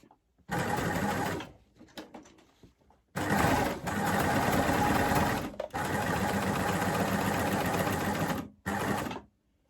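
A coverstitch sewing machine stitches through a felt plaid bag in three sustained bursts of rapid, even whirring, separated by short pauses, close and loud.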